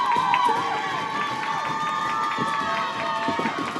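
Crowd noise fills an ice hockey arena during a high school game, a sustained roar of cheering and shouting with whistle-like tones over skating and play.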